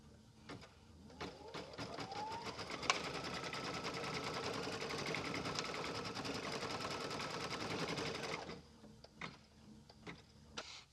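An embroidery-capable sewing machine stitches a placement line on a Christmas mailbox quilt block, a steady rapid mechanical rattle for about eight seconds before stopping, followed by a few scattered clicks.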